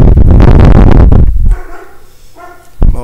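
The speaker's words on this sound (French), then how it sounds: "il y a mon chien qui jappe en bas" A dog barks downstairs in a home, with a loud, dense burst of rapid barks up close for about a second and a half, a quieter lull, then one more sharp bark near the end.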